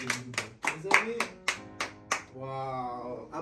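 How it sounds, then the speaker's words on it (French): An audience at a staged musical comedy claps in a quick rhythmic series while voices cry out and cheer over the claps, ending in a sustained vocal tone. "Applaudis encore, mes amis."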